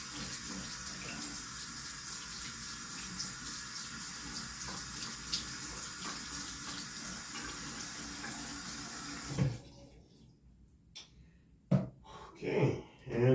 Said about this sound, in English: Do a quick rinse off process.